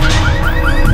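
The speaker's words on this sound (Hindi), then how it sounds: "वो गाड़ी का अलार्म बज रहा है।" A green Volkswagen's car alarm blares loud and close, a rising, repeating electronic wail cycling several times within a second.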